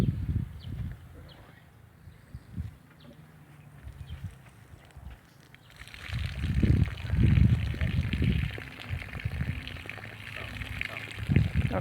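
Water is hand-pumped at a primary school water installation, starting with muffled knocking from the pump and then a steady gush of pouring water, with people talking nearby.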